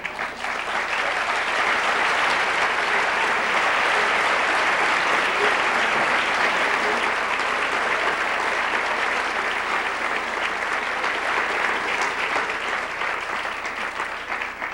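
An audience at the Kennedy School applauds George Soros with steady, sustained clapping from a large room, loud and unbroken for the whole stretch, with no voices standing out.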